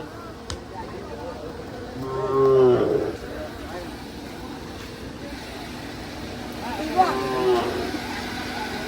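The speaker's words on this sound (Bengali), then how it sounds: "খুব সুন্দর সুন্দর গরু" Cattle low twice at a cattle and goat market in Chouara, Comilla, a deep moo early on and a shorter one later, over a steady background of outdoor crowd noise.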